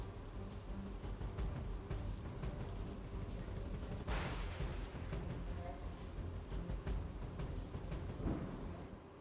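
Rain falls over flooded streets in Surat, a quiet, steady patter with a short burst of rumbling surge around the middle and another near the end.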